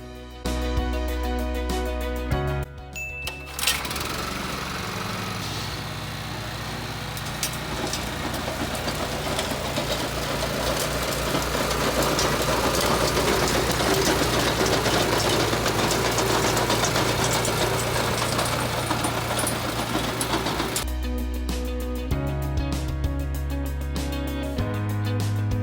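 A garden tiller engine running and churning soil for an in-ground garden bed, a loud steady mechanical drone with knocking vibration that holds for most of the stretch, alone without talk.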